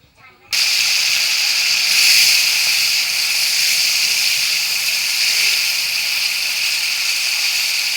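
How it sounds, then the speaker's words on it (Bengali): Paneer pieces dropped into hot oil in a wok with a little salt burst into a loud, sudden hissing sizzle that holds steady and close for several seconds. "পনিরটা দিয়ে দিয়েছি। তো আমি একটু লাল লাল করে ভেজে নেব"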